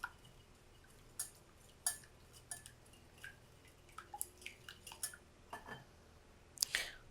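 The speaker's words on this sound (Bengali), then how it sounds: "ডিমটা একটু ভালো করে ফেটে নেব।" An egg is beaten in a bowl, with faint, irregular clinks and taps of a utensil against the bowl at quiet, close range over a soft background hiss.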